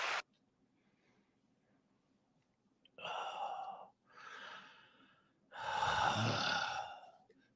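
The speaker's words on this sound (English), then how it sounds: "Fat man breathing hard into a microphone." A man breathes heavily into a microphone during a live broadcast, with several loud, drawn-out exhales and gasps separated by quiet pauses, very close and breathy.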